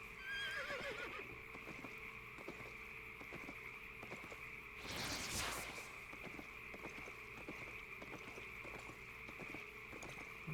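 A horse in the video game Albion Online gives a short whinny at the start, then a louder whinny-like burst midway over steady, rhythmic clip-clopping hooves and a faint continuous ambient hum.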